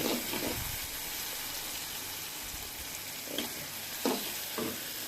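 Tomatoes fry in a hot pan with a steady, close sizzling hiss, broken by a few scraping stirs of the spatula; no one speaks.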